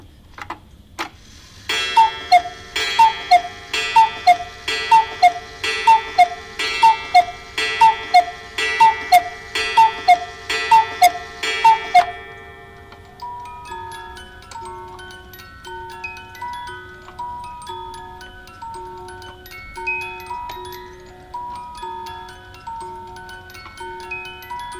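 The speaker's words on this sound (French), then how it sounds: "C'est le coucou, après ça c'est la musique." A cuckoo clock ticks steadily alone, a bright regular tick-tock that runs for about ten seconds before giving way to a softer, chiming musical tune from the same clock.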